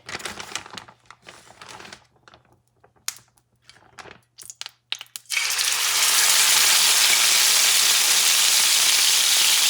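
A petite sirloin steak goes into a preheated pan: soft scattered clicks and crackles give way at once to a loud, steady sizzle that holds strong to the end, with no talking.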